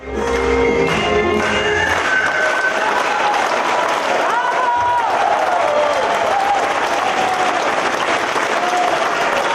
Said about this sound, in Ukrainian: Їхня музична композиція викликала в залі шквал оплесків.